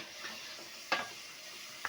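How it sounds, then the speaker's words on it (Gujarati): Spices tempering in hot oil in a village kitchen in India sizzle steadily at low level, with a few sharp spattering pops and clinks cutting through the soft continuous hiss. "જો બા મારી મમ્મી વઘાર કરે છે"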